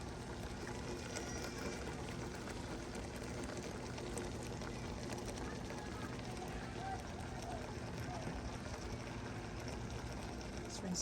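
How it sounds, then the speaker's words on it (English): Water from a garden hose rinses dyed yarn into a pan, a steady, close, continuous splashing rush that holds evenly throughout. "I rinse it with a garden hose just into this pan here"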